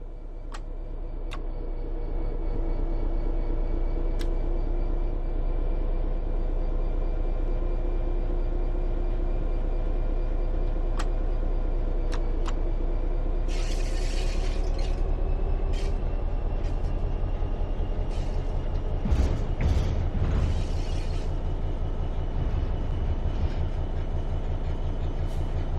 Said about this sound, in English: Apply some throttle to get the train moving.